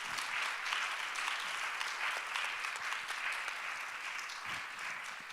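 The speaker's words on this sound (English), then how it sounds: "a round of applause for our panelists" An audience at an interfaith event claps for panelists steadily, a dense sustained wash of applause that fades slightly toward the end, with no talking.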